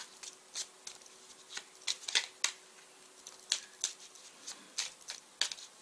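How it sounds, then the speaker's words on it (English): Quiet, crisp clicks and flicks of tarot cards being shuffled by hand, irregular and close, with no talking. "Okay, I'm going to give this a good shuffle."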